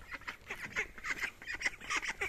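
A mother duck calls to her ducklings with a rapid run of raspy quacks, about four or five per second, close and moderately loud, with no talking over them.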